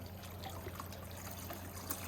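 Water trickles and splashes steadily as Tiger Iron stones from a rock tumbler are rinsed, a close, continuous wet wash with no voices.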